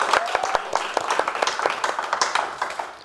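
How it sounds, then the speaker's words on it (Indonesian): A comedy roast audience claps for Dewi Perssik, a moderate scattering of distinct hand claps with audible individual hits over a few seconds, sounding like a smaller crowd. "Boleh minta tepuk tangan buat Mbak Dewi?"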